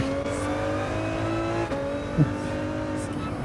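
LaFerrari in Gran Turismo 7, a steady droning engine note holding an even pitch, with a brief bump near the end, moderately loud.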